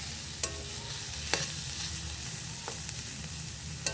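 Momo filling of vegetables and ground black pepper sizzles steadily in a pan, fried until reddish, with a few sharp clinks of a stirring spoon against the pan and no voices.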